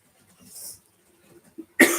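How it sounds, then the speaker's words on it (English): A person with a cold coughs once, sharp and close, right at the end, after a stretch of quiet breathing and faint rustling. "Irritating cough, can't taste anything."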